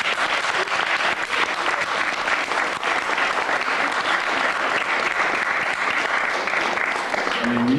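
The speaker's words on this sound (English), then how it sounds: "Everybody give a round of applause." A room full of people at a student writers' event hosted by a minority technology association gives a sustained round of applause, dense and even from start to finish with no talk over it.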